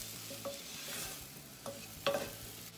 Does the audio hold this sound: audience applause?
no